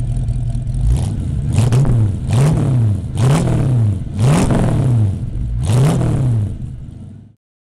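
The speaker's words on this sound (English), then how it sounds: "we're going to demonstrate a Ford Mustang with its iconic 5-liter V8" A Ford Mustang with a 5-liter V8 revs hard in a rapid series of about five loud throttle blips, each rising and falling in pitch, before the sound cuts off abruptly.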